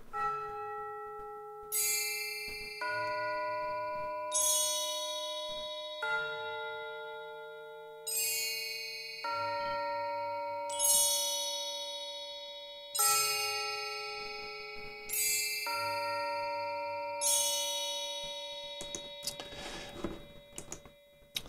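Sampled bells and tuned percussion play a Messiaen score together, bright ringing chords struck in a steady rhythmic pulse roughly every two seconds, each note decaying before the next, ending in a denser shimmering cluster.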